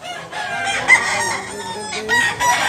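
A two-year-old yellow-legged bullstag gamecock crows close by, loud and drawn out, with noisy surroundings underneath.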